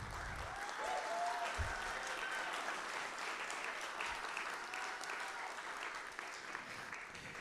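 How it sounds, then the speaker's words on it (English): An audience claps for a speaker at an Innovation Awards Day keynote, producing a continuous wash of hall applause that holds steady for several seconds with a few scattered louder claps and faint background murmur. "So a round of applause for Karen."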